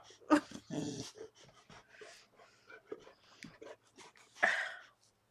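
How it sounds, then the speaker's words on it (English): A dog lets out a couple of sharp barks, one near the start and one near the end, while someone talks over it nearby. "Go with your daddy if you're gonna bark"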